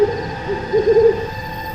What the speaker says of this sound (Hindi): खाली मैदान में सूखी पेड़ की डाल पर बैठा उल्लू चीख उठा।